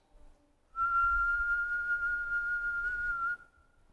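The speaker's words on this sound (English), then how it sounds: "The leader whistled a plaintive note." A single long, steady whistled note held for nearly three seconds, plaintive and sustained, sounding loud and close against a quiet background with a soft low rumble beneath.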